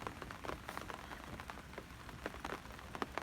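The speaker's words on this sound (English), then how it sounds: "It's raining." Steady rain falls on a garden, a dense hiss of drops with scattered sharper patters striking leaves and surfaces, continuous and fairly close with no talking.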